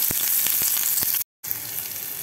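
Finely chopped onion fries in a pan, a loud, close, steady sizzle with a few light stirring taps and a brief dropout.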